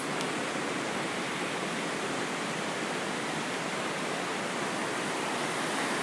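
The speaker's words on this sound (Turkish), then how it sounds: "İşte Güden Şelalesi'ndeyiz" Steady broadband rush of Düden Waterfall in Turkey, water pouring over cavernous cliffs into a tree-lined river, a dense continuous roar filling the scene at constant loudness with no voices.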